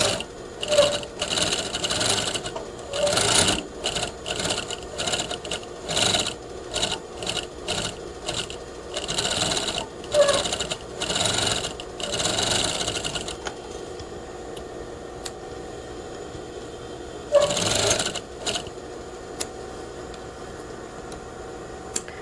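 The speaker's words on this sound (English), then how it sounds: "We'll stitch around the outside of the pouch using 1/2 inch seam allowance." Sewing machine stitching around a fabric pocket pouch, close mechanical bursts of rapid whirring stitches broken by short pauses, then quieter hum with a brief burst near the end.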